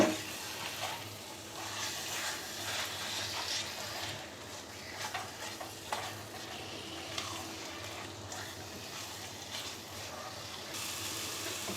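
Ground spices being stirred into olive pickle in a pan give a steady, soft sizzle with occasional scraping, close and even throughout, no voices.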